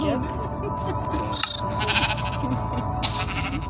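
Sheep in Minecraft bleat a few times in short, nasal calls over a steady electronic background, with people talking throughout.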